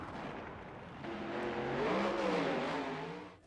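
Monster trucks launch off the line at Kansas Speedway, a loud engine roar rising to a sustained revving drone and then fading out near the end.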